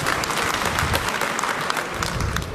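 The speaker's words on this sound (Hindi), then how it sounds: "जोरदार ताली ऊपर वाले के लिए एक बार।" An audience at an Aam Aadmi Party political rally in Rajasthan claps, a dense, steady burst of applause at moderate distance lasting a few seconds, with no voices over it.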